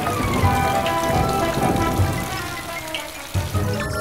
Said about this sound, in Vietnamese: Vậy mà trận mưa vẫn chưa dừng lại ở đó.